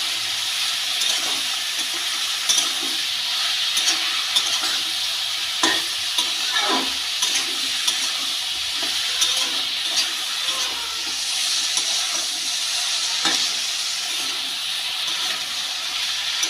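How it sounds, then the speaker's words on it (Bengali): Mixed vegetables seasoned with turmeric and salt fry in a pan, giving a steady close sizzle broken by occasional spatula scrapes and stirring clatter, with no voices. "হলুদ লবণ দিয়ে সবজিগুলোকে ভালো করে ভেজে নেব"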